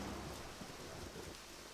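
Steady rain with low rumbling thunder in the video game Deadly Premonition, a continuous dense hiss with a deep rolling undertone, no voices.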